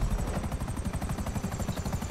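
A helicopter in GTA V Online flies with a steady, loud rotor chop, its fast pulsing beat continuous throughout with no talk over it.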